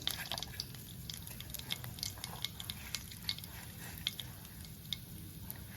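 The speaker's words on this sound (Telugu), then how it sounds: "మెంతులు వేగాక కొంచెం ఆవాలు కూడా వేసుకోవాలండి" Fenugreek and mustard seeds fry in hot oil for gongura chutney, a steady close sizzle dotted with sharp pops and crackles as the seeds are stirred.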